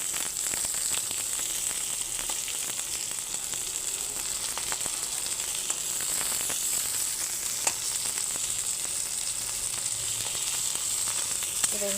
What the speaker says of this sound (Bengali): এখন পেঁয়াজটা ভাজা ভাজা হয়ে যায়।